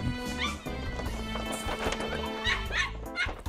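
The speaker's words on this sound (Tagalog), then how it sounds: "Yan yung alaga naming aso." A pet dog on a small farm barks and yips repeatedly in short bursts, close by, mixed with other animal and background noise.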